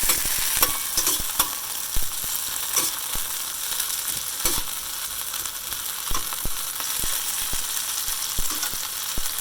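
Steady sizzling of sesame vegetables sauteing in a pan with bursts of crackle and occasional scraping stirs, continuous and close, with no talking.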